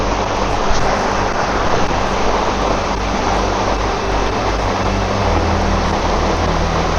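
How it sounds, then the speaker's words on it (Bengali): Jibhi waterfall in the hills near Jalori Pass, a modest but continuous stream pouring down from a height, giving a steady, loud broadband rush of falling water with no pauses and no voices. "দেখুন ওয়াটারফলটা ঝরে পড়ছে কত উপর থেকে"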